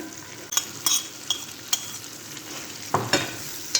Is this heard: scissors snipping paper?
no